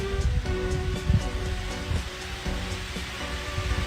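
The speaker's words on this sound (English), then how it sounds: "It's starting to kind of rain now." Rain falling outdoors at night near a small cave area, with a soft, steady patter of drops and faint scattered taps over a low background wash.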